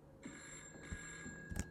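A telephone bell rings upstairs in a Roblox game: a thin, steady high tone with a couple of short low knocks, fairly quiet in the room and with no talk over it.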